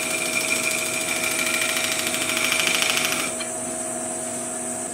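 A Diamic round-section finishing tool from the Tracy Owen fine finishing range by Henry Taylor shaving wood on a lathe: a steady, close hiss of cutting over a constant motor hum. The cut stops abruptly, leaving only the lathe running.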